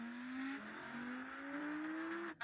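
Audi RS car launching hard in a drag race, heard as a rising engine whine that climbs through several gear changes, steady and moderately distant, then a brief clunk at the end.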